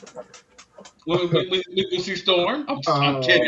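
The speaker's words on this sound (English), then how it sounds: "excuse my dog." A pet dog pants close by in quick, breathy bursts, with people talking over it for most of the stretch.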